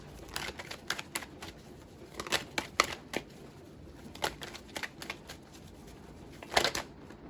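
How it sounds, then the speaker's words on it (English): Tarot cards are shuffled in a series of quick riffling bursts and soft slaps, close and fairly quiet, with short pauses between runs and a final flurry near the end as a card slides free. "this card is wanting to come out. I'm going to just go ahead and let it slide on out"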